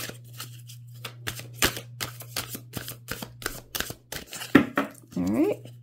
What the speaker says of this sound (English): a couple more, maybe two more shuffles